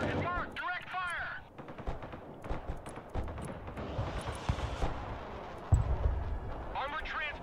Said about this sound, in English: Rocket artillery at your command, sir. Providing direct fire.